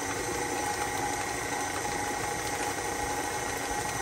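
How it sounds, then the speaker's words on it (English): Stand mixer with a paddle churning sweet potato muffin batter, a steady mechanical motor hum with a faint rhythmic rumble throughout, fairly quiet and with no talking. "let's give it another little go around to make sure all that gets mixed up well"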